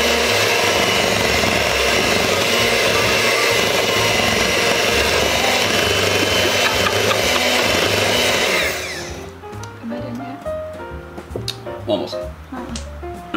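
A blender blade whirs loudly and steadily while mixing banana white chocolate muffin batter, then cuts off abruptly after about nine seconds, leaving clattering and a brief voice.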